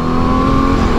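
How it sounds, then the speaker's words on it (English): A car engine revs in sport mode with a sporty tone, a loud, close, sustained whine with a steady pitch lasting about a second. "Sport mode. Speeds the gearbox up a little bit. It does sound like a Porsche."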